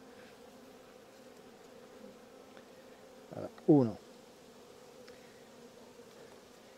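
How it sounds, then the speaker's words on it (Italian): Honeybees swarming over a hive frame hold a steady, soft hum throughout. A voice breaks in briefly near the middle. "Api, guardate, bellissime."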